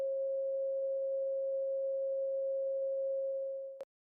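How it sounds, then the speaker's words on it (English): A steady pure sine tone holds at one pitch for nearly four seconds, with a delayed copy doubling it for a fake stereo effect, then it stops abruptly with a brief click. "When played back, we will hear the original waveform and then the second waveform slightly later."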